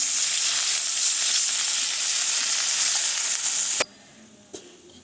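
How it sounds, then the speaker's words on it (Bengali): A spice paste gravy for an egg curry sizzles and bubbles loudly in a pan after water is added, a dense steady hiss close by that cuts off abruptly, leaving a faint clink. "ঝোলটা ফুটে উঠেছে।"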